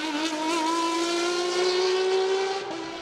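An Ozella PA20S CN3 race car screams past at a hill climb in Chamrousse, its high engine note holding loud and steady, rising slightly in pitch before fading as it moves away.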